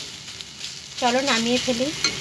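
New onions frying in a pan with a little chili give a soft, steady sizzle, with a voice speaking over it partway through.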